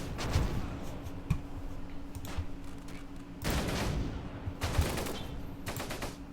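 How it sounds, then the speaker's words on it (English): Gunfire and incoming mortar rounds in the Close Combat World War II strategy game, around Caen in a multiplayer match: bursts of rapid shots with sharper explosive cracks, clustered in loud volleys over a steady low rumble. "Still more mortar rounds coming in to no avail."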